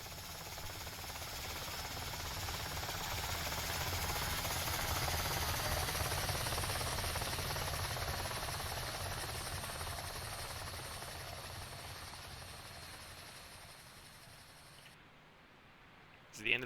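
A Robinson R66 helicopter engine and rotor from the VSKYLABS flight simulator game give a steady, droning whine with a low rhythmic thrum, swelling gently and then easing off before cutting out near the end.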